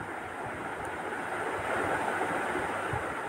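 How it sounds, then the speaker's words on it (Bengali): Spice paste fries with drumsticks (sajne danta) in a pan for a light vegetable curry, giving a steady, even sizzle that holds throughout without pause. "দেখুন খুব ভালোভাবে আমি মশলাটাকে সজনে ডাঁটার সাথে কষিয়ে নিচ্ছি"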